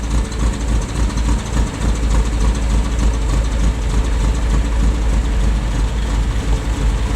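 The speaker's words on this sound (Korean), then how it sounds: "엔진이 안정되게 돌기 시작하죠." A Triumph Spitfire roadster's engine idles after the choke is pushed in, a steady low rumble with a slightly uneven, unsettled beat running continuously and loud, close to the car, with no voices.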